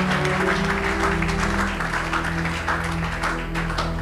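A church congregation at an Easter service applauds in a loud, dense, continuous burst of clapping that fills the room. Voices and faint music sound beneath it.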